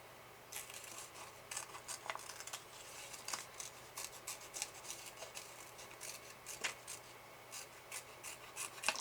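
Scissors snip through a paper printout of a board picture, a steady run of short, crisp cuts close by, quiet and alone without talk.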